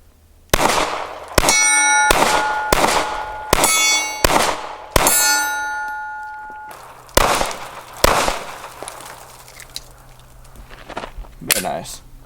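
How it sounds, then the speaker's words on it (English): A Springfield Armory Hellcat OSP pistol fired with a red dot sight rings steel silhouette targets, hollow-point and full metal jacket rounds. About eight sharp shots land in quick irregular pairs, each impact a bright metallic clang with a ringing tail, then fading outdoor quiet. "just going to hit the silhouette targets here, at least attempt to"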